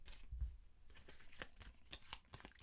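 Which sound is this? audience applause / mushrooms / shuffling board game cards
shuffling board game cards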